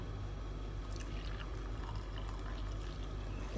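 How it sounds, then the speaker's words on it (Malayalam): Hot tea pours steadily into a glass with a continuous splashing trickle, close and fairly quiet, no voices. "ഗ്ലാസ്സിലേക്ക് ചായ ഞാൻ ഒഴിക്കട്ടെ കേട്ടോ"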